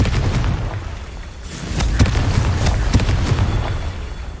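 The Confringo blasting spell in Hogwarts Legacy on PS5 goes off as loud, booming explosive blasts, with a continuous rumble and several sharp impacts.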